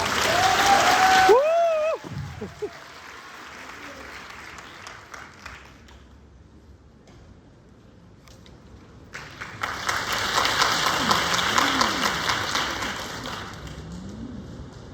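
After a brief voice at the start and a quiet pause, an audience at a student economics symposium breaks into steady applause to welcome a keynote speaker, moderately loud and sustained.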